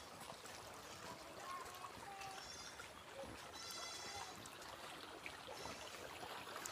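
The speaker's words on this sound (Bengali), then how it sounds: "তো এই যে পানির শব্দ দেখুন" Water flows steadily at a waterfall near a house, a continuous trickling rush that stays level throughout, with faint background sounds mixed in.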